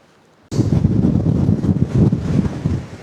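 Strong, gusty wind buffets the microphone outdoors at a drone-flying spot. A low, rumbling roar bursts in abruptly after a brief quiet start and keeps surging unevenly.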